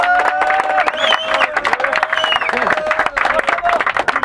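A crowd celebrating the Arcadia cup winners claps steadily in the background, a dense patter of applause running beneath someone talking loudly up front.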